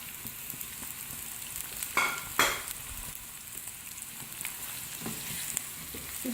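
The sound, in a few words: onions frying in oil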